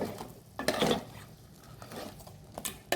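Metal utensil scraping and clinking against a cooking pot while stirring crab sukka with a little added water, in a few short bursts, fairly close, with quiet gaps between strokes.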